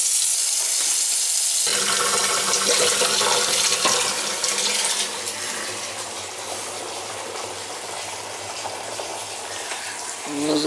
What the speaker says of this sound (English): Fill it and dump it.